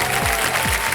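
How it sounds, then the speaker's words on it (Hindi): A game show studio audience on Kaun Banega Crorepati gives a dense, steady round of applause, close and continuous for a brief moment. "पहली बजी ताली।"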